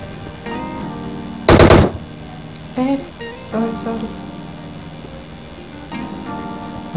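Gunfire in PUBG Mobile: one loud close burst, then several fainter, more distant shots spaced across a steady game soundscape.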